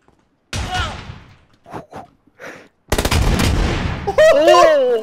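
Shotgun blasts in PUBG: one heavy boom at the start and another a couple of seconds later, each trailing into rumble, with scattered quieter thuds between and a voice speaking near the end.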